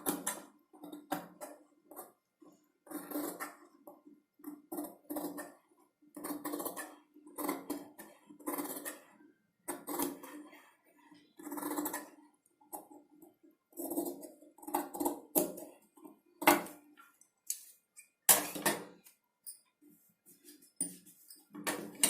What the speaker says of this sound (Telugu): ఇప్పుడు ఎక్స్ట్రా క్లాత్ని కట్ చేసుకోవాలి.